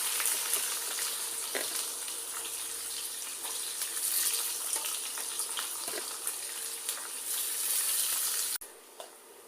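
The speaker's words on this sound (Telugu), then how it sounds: "ఒక చిన్న ఉల్లిపాయ వేసుకోవాలి." Small chopped onion frying in oil for a Rayalaseema-style curry, a steady hissing sizzle with faint stirring taps, near and continuous, dropping off suddenly near the end.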